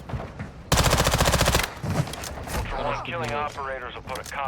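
A rapid burst of automatic gunfire erupts in Call of Duty DMZ, a loud, dense rattle of shots lasting about a second, followed by someone speaking over quieter game sounds.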